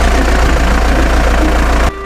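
An early Benz automobile engine runs loud and steady in a constant low mechanical drone, then cuts off abruptly just before the end.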